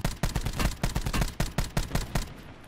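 Swordfish gun firing in Call of Duty Blackout, a rapid rhythmic string of loud close bursts repeating every fraction of a second with no break and no talk.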